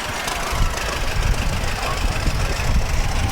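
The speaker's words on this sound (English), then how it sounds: "It looks like it's his tractor." A 1936 AR tractor rolls in a Fourth of July parade in Park River, its engine giving a close, steady, knocking rumble.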